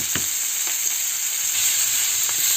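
Bell pepper roasts in a pan with chickpea flour, giving a steady, close, bright sizzle with a couple of faint clicks and no voices.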